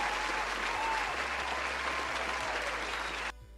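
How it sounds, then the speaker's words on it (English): A burst of steady applause fills the moment, dense and close, then cuts off abruptly near the end. "I'll give you a round of applause on that."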